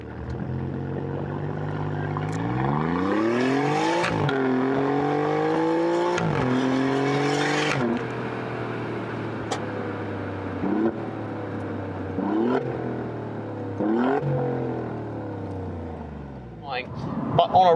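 A 2022 Alfa Romeo Giulia Quadrifoglio engine runs with its exhaust valves held open, revving up and settling repeatedly in a loud, steady drone with rising pitch sweeps, heard close and alone.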